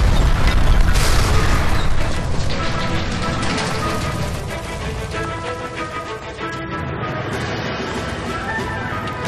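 In LA Noire, a shot gas line explodes with a loud, sustained roaring boom and crackling debris that stays dense and noisy for several seconds without easing much.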